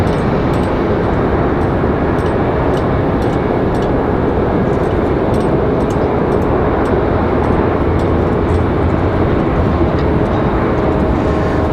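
A JetBlue airliner near Raleigh-Durham International Airport, a loud, steady, broadband jet roar that holds constant from start to end with no voices.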